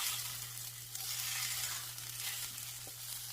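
Onions and celery fry in a soup pot with a faint, steady hiss and crackle, quiet and continuous with a low hum beneath it.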